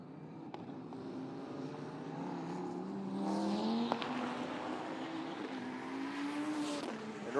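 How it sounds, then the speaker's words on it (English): A 2015 Lamborghini Huracan speed car roars past at a drag racing event, its engine rising in pitch as it approaches and passes, loud and close, with other car noise in the background. "Looks like the 316 speed car coming up next on the right-hand side"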